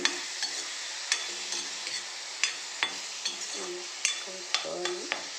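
A spoon stirs a puffed rice powder mixture in a pan over a soft steady sizzle, with a series of sharp scraping clinks against the metal spaced through the stirring.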